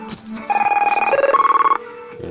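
An AT&T ISDN desk phone ringing, a loud close warbling electronic trill of rapid pulses lasting just over a second, with handling clatter before it.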